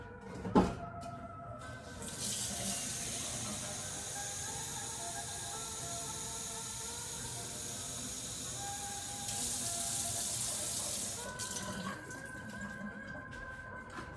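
A steady stream of water pours and hisses continuously for about ten seconds, rushing into a food processor bowl with no talking.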